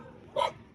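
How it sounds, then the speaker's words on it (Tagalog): A dog gives one sharp, short bark at a meeting between two dogs, fairly close, against quiet outdoor background noise. "Ayun na, nagsalubong ng dalawang aso."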